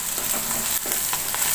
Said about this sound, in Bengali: এই যে করলা আলু ভাজাতে পেঁয়াজটা দিয়ে দিচ্ছি